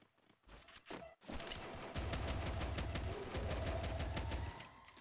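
Rapid double-pistol gunfire in a shooter video game, with dense bursts of repeated shots running through most of the clip, loud and close, after a brief quieter opening.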